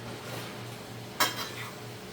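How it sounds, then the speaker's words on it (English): Vegetables and salt mackerel go into a frying pan with a single sharp clatter of utensil against metal, followed by a faint, steady background hiss; no one speaks. "I just put all of that into the pan."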